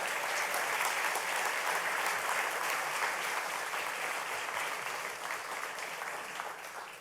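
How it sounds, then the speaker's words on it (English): An audience at a Jacksonville Onslow Sports Hall of Fame ceremony gives sustained applause for the 2021 inductees, a dense, even roar of clapping that thins slightly toward the end. "Let's give them another round of applause"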